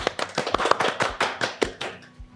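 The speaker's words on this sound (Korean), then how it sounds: "박수 부탁드립니다" A small workshop audience claps for a presenter, a short burst of distinct, fairly close handclaps in a quick uneven rhythm that thins out and fades within a couple of seconds.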